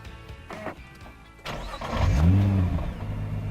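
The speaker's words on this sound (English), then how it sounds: "how agricultural this GT-R can sound, especially when you start it. Listen to this. Listen to all the mechanical bits moving around" A Nissan GT-R NISMO engine cranks and fires up, settling into a loud, rough idle with mechanical clatter and rattling, close by.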